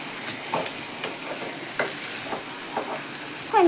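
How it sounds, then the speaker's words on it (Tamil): Chopped ridge gourd sautéed and stirred in a pan for chutney, with soft intermittent scraping and stirring strokes over a faint steady sizzle, close and fairly quiet, no voices. "இப்போ லைட்டாக வதக்கிக்கிறேன்."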